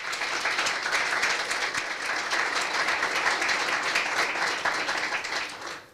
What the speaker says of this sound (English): Let's go ahead and give all of our suppliers a big round of applause